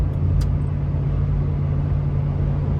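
A Lexus GX470 with an aftermarket exhaust cruises on the freeway, giving a steady low exhaust drone and road rumble that holds even and unchanging for about three seconds.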